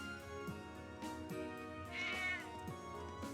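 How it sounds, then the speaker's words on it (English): Cats meowing in the video game Trails of Cold Steel, several short meows spaced across the moment and one longer drawn-out cry in the middle, set over soft background game music. "This is something we should have discussed before approaching the cats."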